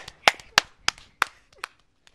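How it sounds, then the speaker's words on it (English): Just a couple of people clap for a contestant in a backyard net-hanging game, giving about five or six separate, sharp claps at a slow, uneven pace, close by and then trailing off. "Give him a round of applause."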